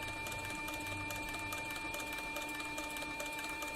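A Cowboy CB4500 leather sewing machine stitches a leather flank strap while its bobbin winder runs, giving a quiet, steady, rapid mechanical chatter.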